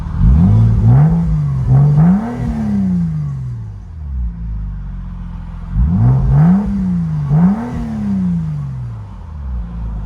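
A 1998 Porsche Boxster's exhaust with Vibrant resonators revving up twice, the engine note rising and falling in deep, throaty sweeps with a rumbling idle between the revs.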